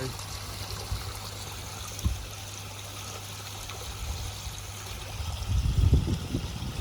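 Water trickles and pours steadily into a raised koi pond to top it up, a soft, continuous wash with a brief thump early on and a louder gush near the end.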